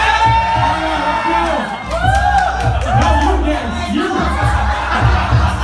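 A crowd at a press night party in a Dubai hotel bar whoops and shouts excitedly in loud overlapping bursts, with voices calling out over a thumping background.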